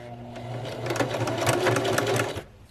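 A sewing machine stitches a zig-zag bar tack for a buttonhole on the widest stitch setting, a steady close whirring run of rapid stitches lasting a couple of seconds before stopping.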